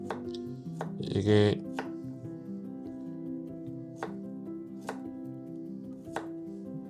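A knife strikes a cutting board at an unhurried, uneven pace, roughly chopping ingredients for beef tteokguk, the thuds crisp and close over soft background music, with a brief spoken word near the start.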